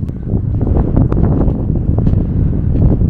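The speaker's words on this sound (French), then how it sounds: "De nouveau, il y a du vent, alors qu'à un moment donné, il s'était calmé et là, il a remonté" Strong wind buffets the microphone in loud, rumbling gusts that continue without a break, with no one speaking.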